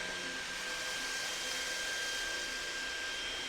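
A Levoit pet vacuum cleaner runs steadily, a constant loud airy whoosh with a thin high motor whine, unbroken and alone.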